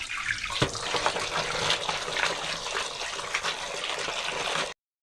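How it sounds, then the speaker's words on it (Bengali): Tap water runs steadily as fish is washed under it in a sink, a close, even rushing splash with faint handling sounds, cutting off abruptly at the end. "এই যে মাছ ধুচ্ছি এখন।"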